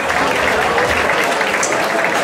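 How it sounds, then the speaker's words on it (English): Loud, dense applause from a boxing crowd in Sheffield after a three-round bout fills the hall as a continuous, steady clatter of many hands, with an announcer's voice over it. "a big round of applause please for both these young men after an excellent contest over three rounds there"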